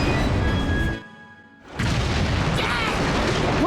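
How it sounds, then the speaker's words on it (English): A loud, booming explosion in the video game Fullmetal Alchemist and the Broken Angel, a rumbling roar cut by a sudden near-silent gap before the noisy rumble returns. "What was that? An explosion?"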